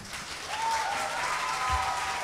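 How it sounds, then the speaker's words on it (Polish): Audience at a Polish Christmas carol concert applauding the performers, a brief steady patter of clapping heard from a slight distance in a hall. "I jeśli chodzi o naszych wspaniałych wykonawców, też wielkie brawa."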